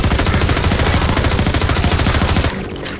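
Rapid automatic gunfire in the video game Half-Life 2, loud, evenly spaced shots in a fast continuous burst that cuts off abruptly just before the end.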